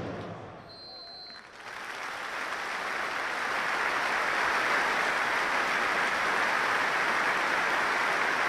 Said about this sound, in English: The moment's applause will start and end on the referee's whistle